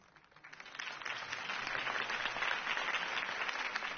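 A crowd applauds after Harvey Dent's campaign speech in a Batman video game, a dense, steady wash of clapping that swells in and holds at moderate loudness.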